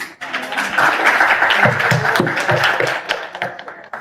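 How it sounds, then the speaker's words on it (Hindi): An audience breaks into applause: a loud burst of dense clapping that swells, holds for a few seconds and then fades out, with no voices over it. "ये जो तालियां भी बजा रहे हैं"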